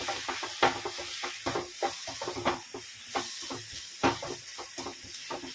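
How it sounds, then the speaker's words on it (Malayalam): Spice powders sautéed in a pan for egg curry: rhythmic scraping strokes of a spoon over a steady sizzling hiss, close and moderately loud, with no one talking. "ഇത് പൊടിയുടെ പച്ചമണം മാറുന്ന വരെ നന്നായിട്ട് വഴറ്റിയെടുക്കുക"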